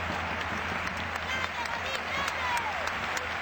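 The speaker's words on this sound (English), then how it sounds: "Godin getting a nice round of applause" Football stadium crowd in an Atletico de Madrid match against Real Zaragoza applauding Godin, a distant, even roar of clapping spread across the stands, with a faint background hum.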